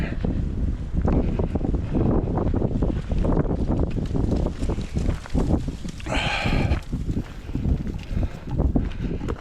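Strong, gusty wind buffets the microphone with loud, uneven rushing and rumbling throughout, with a brief higher whine midway.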